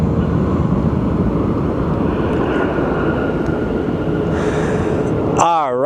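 A Contour Aviation Embraer 145 jet roars loudly and steadily at Phoenix Sky Harbor airport, a dense, unbroken engine rush near at hand, with a short warbling tone breaking in at the very end.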